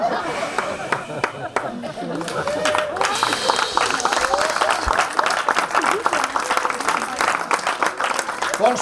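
A festival audience bursts into sustained applause, the clapping swelling to a dense steady roar with scattered laughter mixed in.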